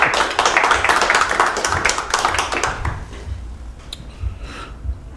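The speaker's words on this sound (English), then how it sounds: "Round of applause for Eric" A small audience applauds for Eric at a tech meetup demo night, a burst of clapping that is loud for about three seconds, then thins into scattered claps and room noise.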